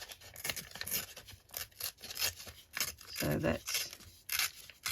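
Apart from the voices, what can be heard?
ripping material by hand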